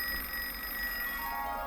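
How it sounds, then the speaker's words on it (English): A kitchen timer rings with a steady, continuous electronic tone in a kitchen where cacio e pepe pasta is being made, and it holds at the same level the whole time with no talking. "my timer's going off"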